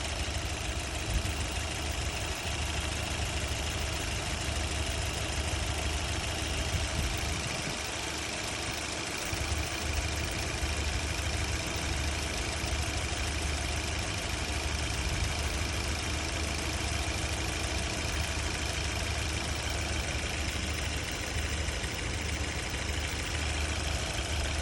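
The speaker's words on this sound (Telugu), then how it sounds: "మనం ఇంజన్ నాయిస్ని అబ్జర్వ్ చేయొచ్చు మిత్రులారా." A Maruti Brezza car engine idles steadily after a carbon cleaner treatment, a constant loud mechanical hum and rumble with no pauses or talking.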